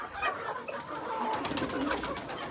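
Pigeons eating grain coo softly nearby, with low, faint calls and some light rustling and no talking.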